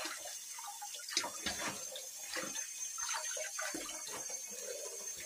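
Tap water runs while spinach from the garden is washed in a home kitchen. A steady close stream splashes and gurgles, with uneven spatters as the leaves are handled, and there is no talk.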